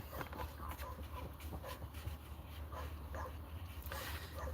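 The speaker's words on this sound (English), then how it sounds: "Where's that dog barking at?" A dog barks in short, scattered outbursts, faint and distant, under a low constant background hum.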